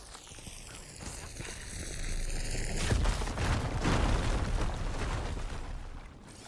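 A fire canister blows up in Horizon Forbidden West, a sudden loud burst at about three seconds that rolls into a long, dense roar of crackling rumble, following a high tonal hum.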